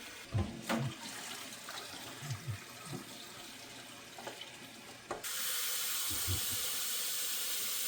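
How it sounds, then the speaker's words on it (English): Cold water pours steadily and loudly over boiled eggs in a kitchen, following a few scattered knocks and clinks of the eggs and pot. "pour cold water"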